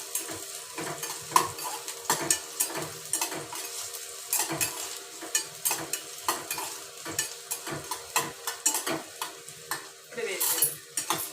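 Chana dal, urad dal, coriander seeds and cumin frying in hot oil in a pan, a steady sizzle broken by frequent scraping stirs of a metal spoon, close and continuous.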